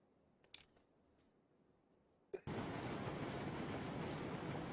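A train rolls along the track in the video game Railroads Online, starting after a sharp clank with a loud, steady broadband rumble that carries to the end, preceded by a quieter stretch with a few faint knocks.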